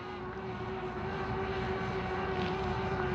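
A Hubsan Ace 2 drone flies at night in low light, its rotors giving a steady, even whine with a constant tonal hum and no speech.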